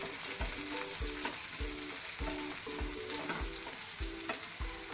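Chopped green chillies frying with onions in a hot pan for egg bhurji, a steady close sizzle broken by regular scraping strokes of a spatula, with no voices.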